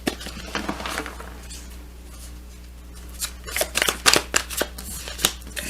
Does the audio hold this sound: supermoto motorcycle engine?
no